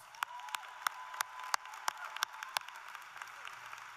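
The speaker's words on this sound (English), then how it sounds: "I want you to thank your teachers and loved ones by a round of applause" At an adult and community education graduation, the audience gives scattered, fairly faint applause for teachers and loved ones. Distinct sharp claps stand out at a loose, steady pace over a soft background wash.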